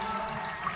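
Strong water flow gushing from a hose fed by irrigation or a deep well beside crops, a loud, steady rushing spray with no talk over it.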